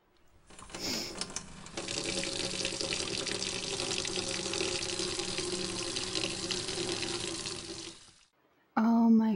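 Water runs steadily from a tap into a sink to wet a cloth, a continuous gushing stream that stops near the end, followed by a brief voice.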